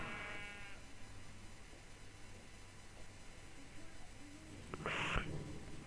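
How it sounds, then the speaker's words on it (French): A Minecraft sheep bleats once, a short, bright bleat near the end over a steady hiss of game background noise, with a faint tonal hum earlier. "Dégage le mouton."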